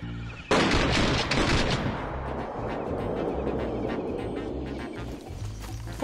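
AK rifle fire in a battle royale video game erupts suddenly into a loud, dense, sustained burst of gunshots with rapid cracks layered over a continuous roar, close and dominant throughout.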